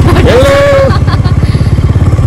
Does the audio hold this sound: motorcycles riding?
yes